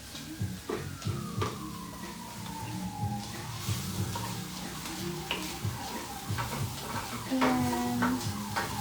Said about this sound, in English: I'm just stirring it up a little bit.